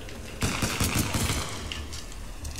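Pistol shots in the Titanfall 2 shooter, a quick string of about five crisp cracks fired in rapid rhythm, then a few faint scattered pops in the game's ambient noise.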